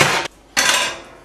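A cooking pan is handled in a kitchen, making two sharp metallic clattering knocks separated by a short pause, close and fairly loud, with no talking.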